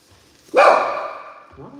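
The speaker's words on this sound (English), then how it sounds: "Why don't you be barking?" A single loud dog bark rings out and trails off, followed by a brief quieter sound near the end.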